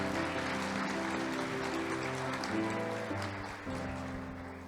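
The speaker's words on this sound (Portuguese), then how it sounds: "Quem recebe aplaude do Senhor em nome de Jesus." A church congregation claps steadily for several seconds over sustained keyboard or organ chords at a worship service, fading slightly toward the end.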